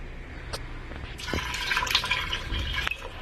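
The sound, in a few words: water being poured into a pot of rice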